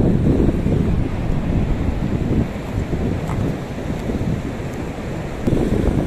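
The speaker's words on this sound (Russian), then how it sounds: "Слышите мощный накат волн?" A strong sea surf rolls onto the shore at dawn under a southerly wind, a loud, continuous roar with heavy wind buffeting on the microphone and no talking.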